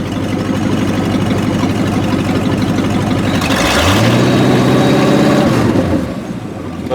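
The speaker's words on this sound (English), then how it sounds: "when I have that idle air control valve unplugged right here, she idles properly" A 1988 Ford F150 engine idles with its idle air control valve unplugged, running steady and close, then climbing in pitch for a couple of seconds before settling back to idle.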